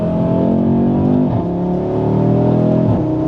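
A 2025 Audi RS3 accelerates hard from inside the cabin, its engine note rising through the revs with shifts audible as brief dips, loud and continuous without talk.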